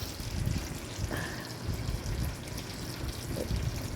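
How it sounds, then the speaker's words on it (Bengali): Tap water trickles and splashes faintly as hands are rinsed in a home kitchen while cooking a Bengali pointed gourd and prawn dish, a soft continuous running stream with no speech over it. "হাত ধুয়ে নিলাম"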